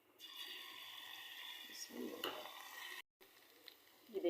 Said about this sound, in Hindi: ऑयल गर्म हो चुका है, लहसुन डालते हैं इसमें